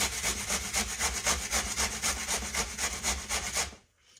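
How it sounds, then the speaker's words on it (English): A potato is scraped quickly over the large holes of a grater with rapid, even rasping strokes, close and loud, stopping abruptly near the end. "I'm going to grate it on the bigger side right here,"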